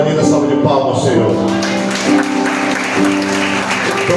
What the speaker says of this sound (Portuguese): uma linda salva de palmas, Senhor